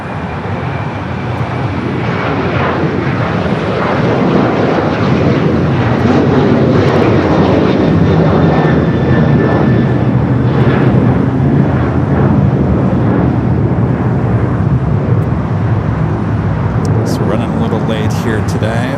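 A heavy jet airliner roars down runway 25 right at LAX on takeoff, a loud, sustained broadband engine rumble that builds and holds steady, with faint radio talk in the background.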